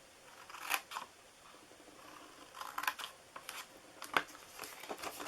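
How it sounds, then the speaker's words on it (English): Scissors snip through paper for a craft bag in a quiet room, a few short, crisp cuts in small clusters, fairly faint and close. "Cut up each one of these"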